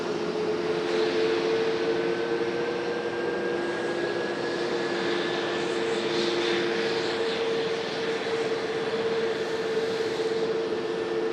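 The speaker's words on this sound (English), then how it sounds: "you'll still be able to hear the MD-11 departure" Steady broadband engine roar of an MD-11 jet airliner departing Raleigh-Durham airport, constant and moderately loud at a distance, with a faint rising whine over the rumble and no talking.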